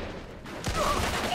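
Gunfire in the video game Mafia 2, a short burst of loud shots cracking in after a quiet moment and continuing briefly with echoing tails.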